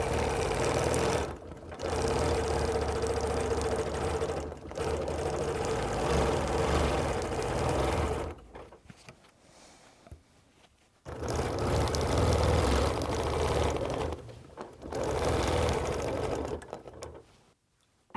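A sewing machine stitching circular quilting lines across flat fabric runs in steady, loud bursts, with short pauses between runs and a longer quieter stretch midway.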